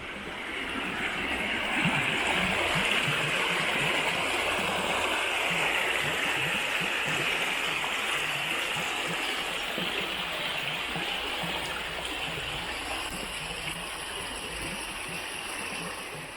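A continuous rushing flow of river water, steady and fairly loud from start to finish, with no voices.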